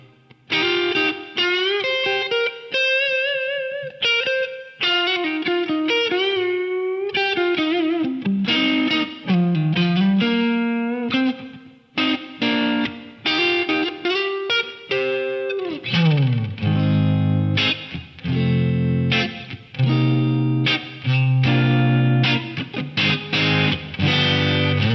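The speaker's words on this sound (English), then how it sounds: "We have a hall reverb. Let's hear this." Guitar played through a Digitech DSP128 rack effects unit set to its hall reverb algorithm, with sustained distorted notes and chords washing into a long, slightly noisy reverb tail, loud and continuous throughout.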